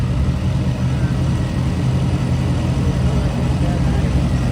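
A blown, fuel-injected Chevy engine, a high-horsepower build making 431 horsepower at the rear wheels, runs with a loud, steady low rumble that continues unbroken throughout.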